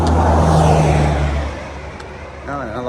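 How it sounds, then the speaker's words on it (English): A car screams past on a rural road, a loud close roar that swells then quickly fades into the distance, with a voice starting to speak near the end. "Hold on, car screaming by."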